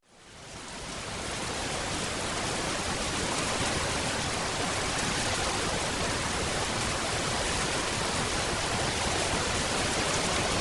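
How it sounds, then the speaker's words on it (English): Steady rain falls outdoors at a remote campsite in Alaska, building within a second into a dense, even hiss that continues unbroken with no voices. "Here comes the rain."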